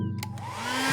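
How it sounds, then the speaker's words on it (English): A hair dryer blows in a cartoon scene, a close steady whirring hum whose airy rush grows louder and rises in pitch over a single second. "Maybe we should only use the hairdryer after our dragons hatch"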